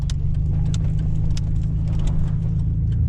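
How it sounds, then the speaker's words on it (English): A big diesel truck rolls past with a steady, loud low rumble and engine drone, with brief scrapes and clicks from the road above it; no one speaks. "That's a big truck."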